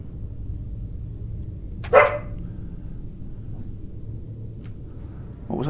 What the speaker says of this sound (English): Dog barking again.